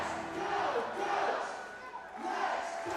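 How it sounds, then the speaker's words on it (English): A large arena football crowd roars continuously, swelling and falling in loud waves of cheering and shouting. "As this crowd's getting loud again."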